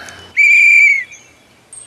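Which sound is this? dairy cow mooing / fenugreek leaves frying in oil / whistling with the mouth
whistling with the mouth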